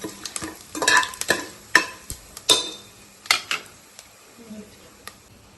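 A metal spoon scrapes and clicks around a pan in a series of irregular strokes while whole spices for prawn biryani rattle and faintly sizzle.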